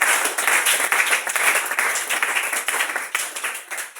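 A church congregation claps and applauds to acclaim the Lord, a sustained crowd of many hands clapping loudly and irregularly, swelling and fading slightly over a few seconds.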